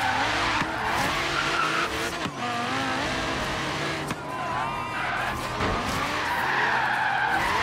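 A Jaguar D-Type racing in the video game Forza Horizon 3 brakes hard, tires squealing and skidding over a loud, continuous engine roar that shifts pitch throughout.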